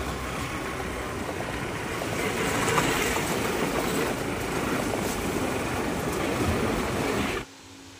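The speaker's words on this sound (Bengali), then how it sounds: "স্টেশনে কিন্তু একটা গাড়ি দাঁড়িয়ে আছে, এটা হচ্ছে কাঞ্চনকন্যা" Kanchankanya Express train at Kalchini railway station, a steady broadband rumble of rolling cars holding for about seven seconds before cutting off abruptly near the end.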